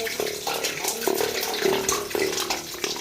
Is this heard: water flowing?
yes